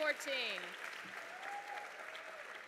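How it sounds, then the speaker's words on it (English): Audience applause at the Opportunity Nation Summit, a steady wash of clapping from a large crowd, with a voice speaking over the start before the clapping carries on alone. "So give them a round of applause."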